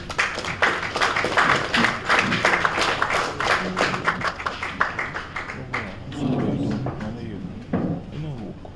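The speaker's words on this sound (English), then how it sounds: "just give a round of applause" An audience claps through a round of applause at the launch of the Sierra Leone Open Budget Survey Report 2023. The dense, steady clapping thins out toward the end, and voices talk over it.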